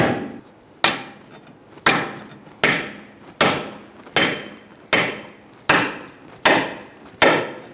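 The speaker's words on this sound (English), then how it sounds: "I'm trying to still get this upper ball joint to break free." Repeated hammer blows struck to break loose an upper ball joint on a 2014-2018 Subaru Forester 2.5L during rear CV axle replacement, about ten sharp metallic hits at a steady pace, loud and close with no talk.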